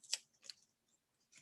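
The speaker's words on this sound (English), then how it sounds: "scissors, but I just kind of prefer my tried and true Fiskars" Fiskars scissors trimming card paper, two crisp close snips followed by a third cut starting at the end, quiet and alone.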